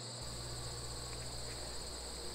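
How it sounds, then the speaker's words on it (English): Katydid chirping in a continuous, high, buzzing drone, steady and close, with no voices. "This is a katydid."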